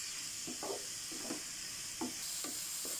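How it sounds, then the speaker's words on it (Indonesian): Carrots fry in ghee in a pan with a soft constant sizzle, while a utensil stirs them in several short scraping strokes, close and moderately quiet. "Bagi karet ni masak dalam ghee sampai dia nak betul-betul nak masak ya."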